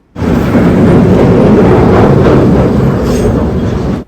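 Loud, continuous roaring rumble of a train passing very close, a dense wall of noise that stays steady before cutting off abruptly.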